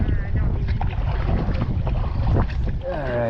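Strong wind roars and buffets the microphone while a boat is paddled on Grassi Lake, a steady, loud broadband rush with faint water sounds beneath and a brief voice near the end.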